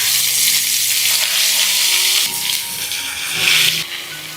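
Chicken pieces deep-frying in hot oil with a spoonful of wheat flour added, a steady loud sizzle and bubbling hiss that holds throughout and swells briefly near the end.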